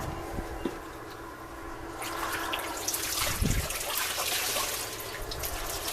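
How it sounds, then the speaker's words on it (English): Water splashes and trickles as wet laundry is wrung out by hand, with the dripping and pouring growing louder partway through, close by. "I wring out water"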